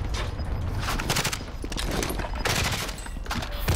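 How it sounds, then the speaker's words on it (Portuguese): Rapid gunfire from Call of Duty Warzone, with bursts from a high fire-rate assault rifle cracking in clusters over a continuous battle ambience, some shots sharp and close, others further off. "Tem um cara atirando lá no outro prédio."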